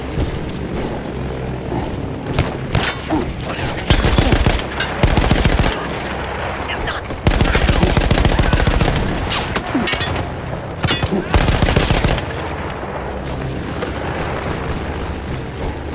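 A mounted machine gun fires in Battlefield 1, Italian front against Austro-Hungarian troops, with loud sustained bursts and heavy impacts or explosions that swell and fade over a steady battle din, with no talking.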